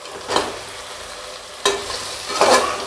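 Mixed vegetables for veg biryani sauté in a pan over a low gas flame, with a steady sizzle broken by three scraping strokes of a spoon, close and alone.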